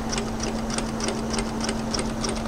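Home sewing machine stitching steadily with a binding attachment through fabric layers of a camisole, a fast even ticking rhythm with a low motor hum underneath, close and continuous.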